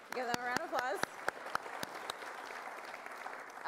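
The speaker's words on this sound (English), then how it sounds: "Let's give them a round of applause." Audience applause at a town hall on gender, sport and society: a burst of clapping that follows a voice, then continues as scattered, loud individual claps and then a softer sustained patter.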